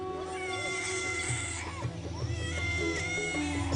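A young girl protests loudly during a hospital medical examination with continuous high, wavering wails and cries that rise and fall close by over a busy background.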